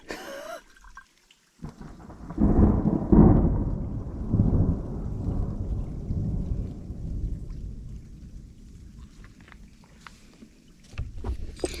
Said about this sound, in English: Alright, storm's coming.